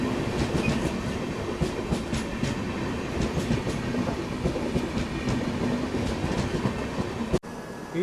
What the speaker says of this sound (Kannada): ಇದು ನೀವು ನೋಡಿದ್ರೆ AC ಸೂಪರ್ ಫಾಸ್ಟ್ ಟ್ರೈನು